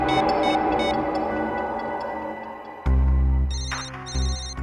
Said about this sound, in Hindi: रिंग यहीं पर बज रही है कहीं